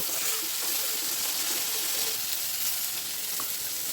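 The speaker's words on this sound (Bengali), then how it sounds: "সামান্য পানি দিয়ে মশলাটা বেশ কিছুক্ষণ ধরে কষিয়ে নেব" Steady, close sizzling of spices cooking in a pan with a little water, a continuous hiss and faint bubbling, no voices.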